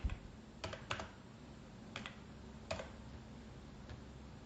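Sparse keystrokes on a computer keyboard while a Google Sheets formula is entered, several light separate clicks spread over a few seconds against a quiet room hiss, near and soft, no talk.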